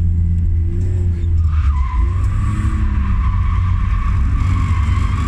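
A car engine roars loudly up close as tires squeal and skid, the engine revving steadily throughout, as the car accelerates.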